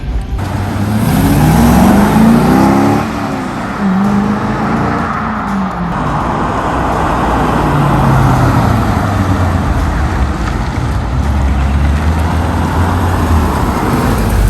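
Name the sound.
1997 Chevrolet Corvette C5 driving on test drive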